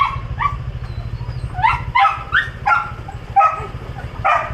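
Several dogs bark in short bursts, some yippy and high, repeating irregularly over a steady low hum.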